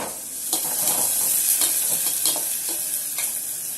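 Onions fry in a pan for a brinjal curry: a dense, loud, close sizzle fills the whole stretch, with rhythmic stirring strokes pushing through it about every half second, and no talk.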